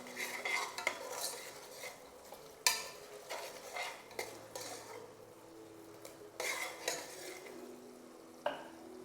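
Cashews are stirred with a spoon inside a pressure cooker pot while making tomato pulao with spices. Intermittent scraping strokes mix with sharp metallic clinks against the pot, fairly quiet and close, with no talking.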